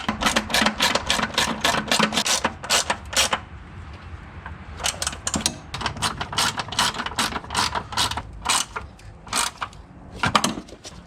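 Close ratchet clicking as nuts are tightened on the front upper control arm of a 1997–2005 Lexus GS, with rapid bursts of sharp pawl clicks separated by a brief pause, loud and near with no talking.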